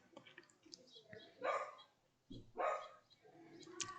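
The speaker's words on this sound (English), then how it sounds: "That's my dog." A pet dog barks at home during an evening hockey game broadcast, giving a few scattered yips and two louder barks, moderately close within an otherwise quiet room.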